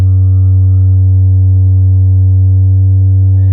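A DIY modular synth low-pass filter pushed to high resonance until it self-oscillates, giving a loud, steady, pure sine- or triangle-like tone that holds unchanged throughout with no voices.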